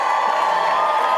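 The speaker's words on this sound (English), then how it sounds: "I think you got a very loud cheer" Loud, sustained cheering from a large audience at CPAC, a dense steady roar of crowd voices with no break, heard alone.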